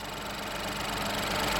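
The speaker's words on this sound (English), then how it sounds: "Has a 1 litre turbocharged 3-cylinder engine," A 2018 Ford Fiesta with a 1.0 litre turbocharged three-cylinder EcoBoost engine idles steadily, a close, even mechanical hum with a faint ticking rhythm and no voices.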